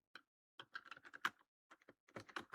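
Text is typed into an Excel cell on a computer keyboard in quick, faint bursts of clicking keystrokes separated by short pauses, close and quiet, with no one talking.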